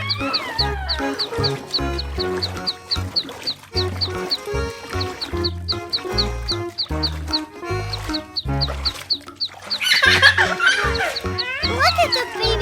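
Ducklings quack while swimming, a rapid string of short, bright calls repeating throughout, mixed with giggling and a voice talking.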